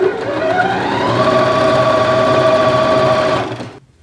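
An Elna 450 sewing machine stitches around cushion piping with a loud, close, fast mechanical whir that holds steady for about three seconds, then slows and stops.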